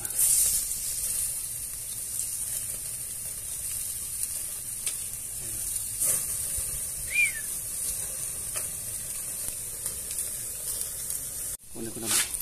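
Pork belly and tilapia sizzle on a grill with a steady broadband hiss, with a faint bird chirp and brief handling clicks midway.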